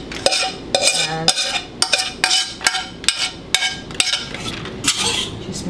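A utensil stirs quinoa with kale, tomatoes and hot vegetables in a bowl, scraping and clinking in a steady rhythm of about a dozen close, distinct strokes.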